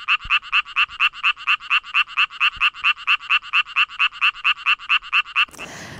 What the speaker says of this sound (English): Now we're going to hear a fungal croaking pattern that is apparently far more attractive